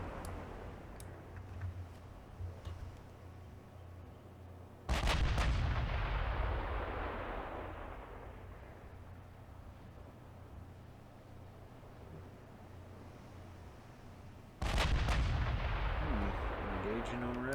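Battleship big guns in the naval video game Ultimate Admiral Dreadnoughts fire two loud, booming salvos several seconds apart, each leaving a long rolling rumble that decays slowly over low ambient noise.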